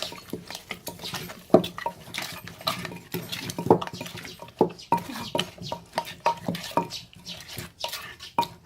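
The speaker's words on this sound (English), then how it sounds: "Then we're gonna mix it." A spoon clinks and scrapes repeatedly against a bowl while mixing chilli sambal with brown sugar and fish sauce, in a busy irregular rhythm of close, bright taps.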